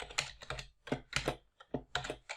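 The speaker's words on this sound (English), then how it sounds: "I'm just going to type out" Computer keyboard being typed on in bursts of clustered keystrokes with short pauses between, fairly close and clear, entering a Twitter handle into a Power Automate trigger step; no one talks.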